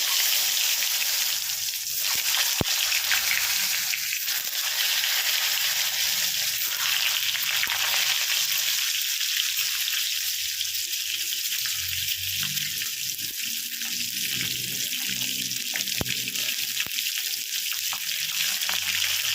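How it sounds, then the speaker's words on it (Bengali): Four eggs fry in a kadai with salt and turmeric, a dense continuous hiss and sizzle held close and loud throughout, with a couple of brief clicks and no talk. "এবারে আমি ডিমগুলো ভেজে নেবো।"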